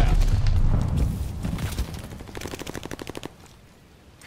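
Rapid automatic gunfire and heavy shooting around a contested hardpoint in the World War II shooter Call of Duty: Vanguard, a loud dense burst at first easing into a quick rattling volley of shots before fading.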